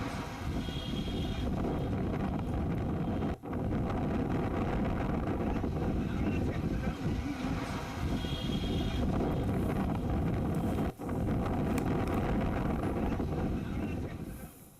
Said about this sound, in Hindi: तेज हवाओं के साथ बारिश शुरू हुई।